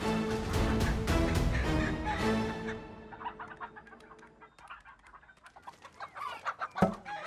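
Country chickens cluck loudly up close, a dense burst of clucking that thins into scattered calls, ending with one sharp squawk.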